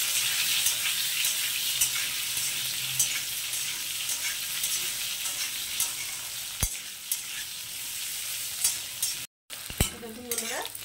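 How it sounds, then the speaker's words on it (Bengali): Potato pieces fry in hot oil with black cumin in a pan, a steady soft sizzle with occasional stirring scrapes and a few sharp clinks near the end. "তো আলুগুলো সামান্য একটু ভাজা ভাজা করে নেব।"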